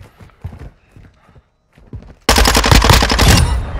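Minibak SMG fire in Modern Warfare 2: after scattered game sounds and muffled chatter, a loud, dense burst of rapid automatic gunfire erupts and runs to the end.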